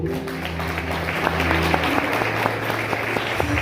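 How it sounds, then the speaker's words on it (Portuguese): A church congregation applauds during a worship service, steady clapping throughout with sustained musical tones from an instrument underneath during the first half. "Aplauda ao Senhor."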